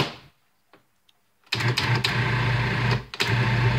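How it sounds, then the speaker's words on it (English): A food processor kneading baguette dough for banh mi: after near silence, the motor starts with a loud, steady whir and thumping that drops out briefly, then picks up again. "So I will let my food processor kneading it as much as possible."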